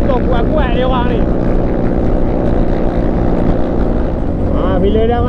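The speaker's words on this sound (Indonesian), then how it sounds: "Tengok bunyi motor kuat-kuat dia orang ni." Loud motorcycle and scooter engines on a road near Lenggong during a Forza 250 test ride, a continuous close droning roar with passing revs, someone talking over it.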